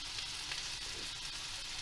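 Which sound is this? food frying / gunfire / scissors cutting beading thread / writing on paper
food frying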